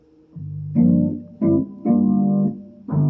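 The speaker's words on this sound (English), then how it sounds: "So there's the chorus piano." Korg Kross electric piano chords with a shimmering, wavering chorus effect, four separate sustained hits with short gaps between them, played alone.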